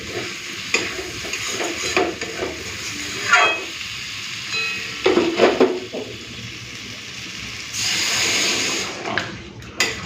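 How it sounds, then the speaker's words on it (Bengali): A spoon stirs elephant yam and potato curry in a pan after water is added, with repeated scraping strokes over a constant simmering sizzle and a louder hissing burst near the end. "পরিমাণ মতো জল দিয়ে দিয়েছি একটুখানি মিশিয়ে টিশিয়ে নিলাম"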